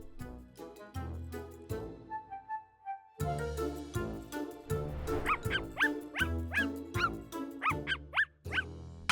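A neighbour's dog barks in a garden with a run of short, high yapping barks, fairly close, over a steady rhythmic backing.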